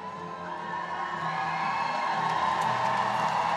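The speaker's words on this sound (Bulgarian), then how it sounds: "Заслужени аплодисменти от публиката" At a rhythmic gymnastics world championship group all-around award ceremony, a large crowd cheers and whoops in a sustained, swelling roar that grows louder toward the end, with a Spanish fan section among them.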